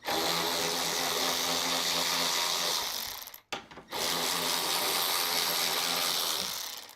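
A power tool drives bolts into a Stern Metallica Premium pinball machine, a loud whirring, ratcheting burst lasting about three seconds, a short pause, then a second equally long run, close and alone.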